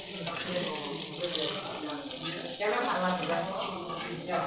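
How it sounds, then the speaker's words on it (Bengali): String beans (barboti) frying in a pan, a steady soft sizzle lasting throughout at moderate level, with someone talking over it. "দেখো ভাজা কতটুকু হলো এখন বরবটি ভাজি হচ্ছে"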